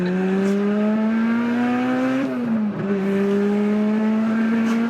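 A loud turbocharged Toyota Celica GT-S engine roars steadily as it accelerates, pitch climbing, dipping briefly at a gear change, then rising again, heard close from inside.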